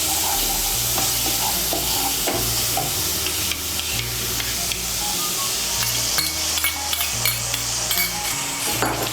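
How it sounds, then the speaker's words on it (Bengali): A spoon stirs whisked sour yogurt into fried spiced masala in a pan for a Bengali egg curry, with a steady close sizzle and repeated scraping and clinking against the pan. "টক দইটাকে মশলার সঙ্গে ভালো করে মিশিয়ে নেব"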